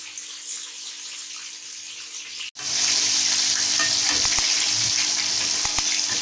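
Chicken frying in hot oil for a KFC-style Zinger burger, a dense continuous sizzle that jumps louder after a brief gap, with occasional pops and clinks from stirring.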